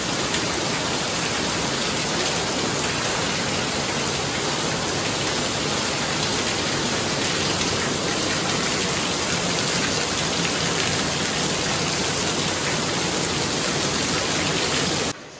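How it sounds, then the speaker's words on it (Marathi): Heavy rain pours down steadily, a dense, loud and unbroken hiss of water drumming on surfaces that holds at the same level throughout with no voices. "तुम्हाला दाखवते मी पाऊस किती आहे"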